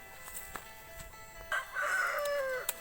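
A rooster crows once on a rural farm, a loud drawn-out call rising then falling near the end, preceded by scattered clucks and light rustling noises.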